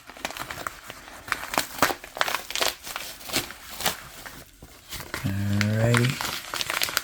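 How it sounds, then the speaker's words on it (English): New bubble wrap crinkling and crackling during the unboxing of an XGODY TAB10 Android tablet, close bursts of plastic crackle interrupted by a talking voice, ending with a brief loud scrape. "Aw, this is a new bubble wrap."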